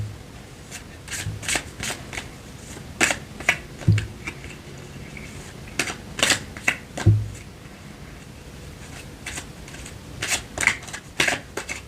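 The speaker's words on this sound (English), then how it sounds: "We've got our lovely astrology oracle cards here. So let's give them a little mix up." Astrology oracle cards being mixed by hand, with quick papery riffles and soft slaps coming in short bursts at close range, with no talking.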